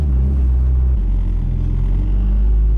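A tuned Honda engine running straight E85 revs hard into VTEC, a loud, deep droning roar that holds steady and shifts slightly in pitch partway through.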